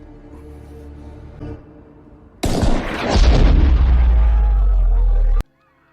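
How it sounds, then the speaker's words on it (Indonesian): A sniper rifle shot in a film scene, a sudden loud blast followed by a sustained heavy rumbling boom that cuts off abruptly, after a quiet low musical passage. "Raider berhasil menembak sang presiden"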